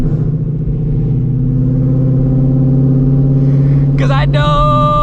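Loud, close drone of a Shelby GT350 fitted with a ProCharger supercharger, holding a steady low-pitched idle-to-rev rumble, with a brief clatter near the end.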